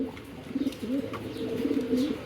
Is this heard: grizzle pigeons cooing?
yes